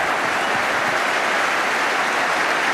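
Dense, continuous applause from a large football crowd at West Ham v Arsenal, a loud, even wash of clapping and stadium noise holding steady throughout.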